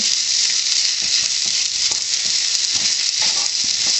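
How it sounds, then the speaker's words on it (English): Tomato frying with a stuffing mixture in a pan for stuffed zucchini, giving a steady close sizzle with occasional soft stirring clicks, no voices. "I'm going to cook my tomato just for a few minutes, that in addition to the rest of that mixture"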